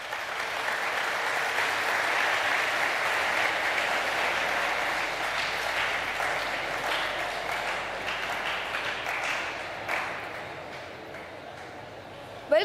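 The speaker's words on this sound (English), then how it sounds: "We ask the students to applaud and welcome our chief guest." Students at a commerce department conference session give sustained applause to welcome the chief guest, a steady crowd of clapping that continues for several seconds, then thins out near the end.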